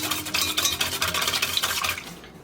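Whipped cream and sugar being stirred by hand in a bowl for a strawberry shortcake, a close, busy scraping and swishing with quick irregular strokes that fade out at the end.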